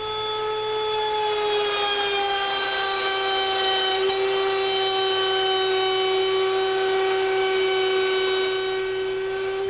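A router cuts through rabbets in a wood board, a loud steady high-pitched whine with a strong tonal drone held without a break, over a rough cutting rasp.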